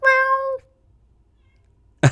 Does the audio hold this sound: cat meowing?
yes